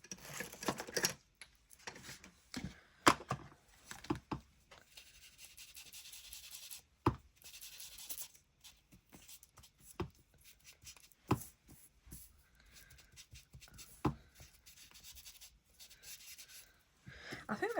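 Ink is distressed onto a scrap of paper for card crafting, heard as a series of quiet, irregular dabbing and scrubbing taps close by, with brief pauses between bursts.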